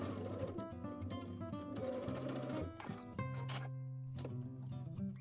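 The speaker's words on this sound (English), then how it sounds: "So match the angled slants of the pocket bags and the front pant with right sides together" Sewing machine stitching trouser pocket bags to the front pant pieces, a steady close mechanical whir with rhythmic needle ticking that shifts speed and briefly pauses before running on again.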